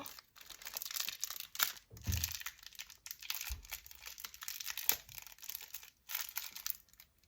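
Cargo packaging is torn and crinkled by hand in bursts of close crackling and rustling, with short pauses between pulls and no talk.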